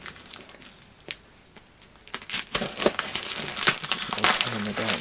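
A taped parcel of gifts being opened by hand, with crinkling and tearing packaging and tape rustling in bursts close to the microphone, growing busier and louder toward the end.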